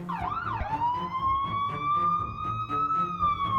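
A police siren wailing as police arrive, its tone sweeping up and then holding a long high wail, loud and near over rumbling background noise.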